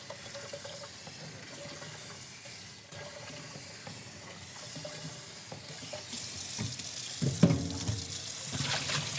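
Water runs from a tap to rinse out and then fill a container, a steady close splashing flow that grows louder and fuller as it fills, with no voices.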